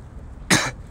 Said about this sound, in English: I just keep having to cough